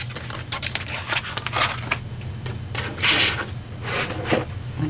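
Handling a die-cutting machine platform at a card-making desk: a run of close plastic clicks, scrapes and rubbing as the platform is slid out and swapped, with quiet pauses between bursts.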